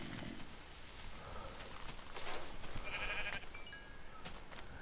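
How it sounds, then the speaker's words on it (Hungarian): A sheep bleats a few times in a video game, faint and slightly distant over soft ambient background noise with no talking. "ez csak egy birka."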